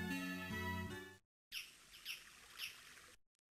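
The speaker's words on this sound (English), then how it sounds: "Are those the birds we set free in Wendell?" Game birds chirping in Sword of Mana, near Devius Manor, with three short bright calls spaced about half a second apart after a stretch of musical tones, with no talking.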